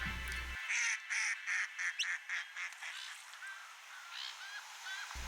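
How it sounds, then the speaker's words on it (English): Pink-eared duck calls recorded in Australia: a series of soft, chirruping quacks in a rhythmic run, then fainter scattered notes, heard at moderate distance over quiet outdoor background. "The very last life bird I got on my trip was pink-eared duck."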